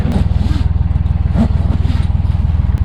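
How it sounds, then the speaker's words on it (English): A narrowboat's diesel engine idling close by, a loud, even low chugging pulse with slight rattling, running steadily throughout with no talk. "Time now to turn off the engine."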